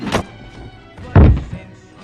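A golf club strikes a person with one heavy, dull thunk, preceded by a lighter knock, both close with no talking.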